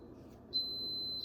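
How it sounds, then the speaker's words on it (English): A timer alarm starts beeping partway through, a loud steady high-pitched electronic tone that sounds alone over faint room noise. "My timer is going off"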